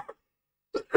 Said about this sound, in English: I've got a bit of a cough